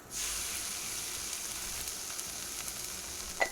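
A thin cocoa-bean-rubbed smoked steak sizzles steadily in a hot skillet, a constant bright hiss with a few faint pops and a louder crackle near the end.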